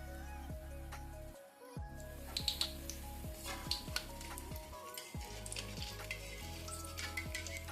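Dahi vada frying in hot oil gives a steady, close sizzle that runs the whole time, with intermittent clicks and scrapes from stirring.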